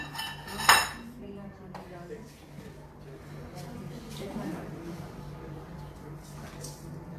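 A spoon works through a green chili paste mixture in a bowl, making a sharp clink at the start and then repeated soft scraping and squelching, with a voice talking faintly in the background.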